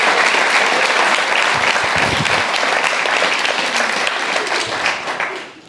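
Audience applause at a guide dog school graduation, honoring the chef, housekeeping and residential staff; steady, dense clapping from a crowd that holds for several seconds before tapering off at the end.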